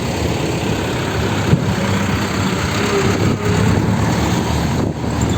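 Fish delivery trucks at night at a fish port in Malabon, engines running in a steady, loud, low idle rumble with slight surges and a brief knock, no voices standing out.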